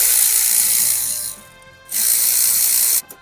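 A 13 mm ratchet wrench loosens turbo downpipe bolts on a turbocharged 240Z with an LS engine, giving rapid close clicking in two long bursts with a pause between them.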